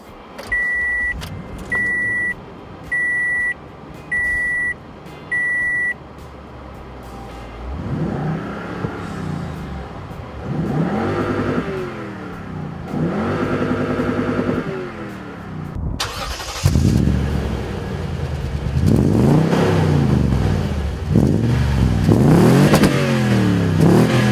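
A 2015 Toyota Tundra TRD Pro starts with a few warning chimes, then its engine revs in repeated swelling bursts that build into hard, loud acceleration with a deep, rising roar.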